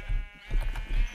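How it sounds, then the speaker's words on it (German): A Minecraft sheep gives a short, buzzy, nasal bleat in quick pulses, fairly close, lasting barely a second with no talking. "Schafe sind halt schon cool."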